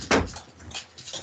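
A pet dog lets out a short, sharp bark or yelp indoors, heard once near the start and followed by quieter household sounds.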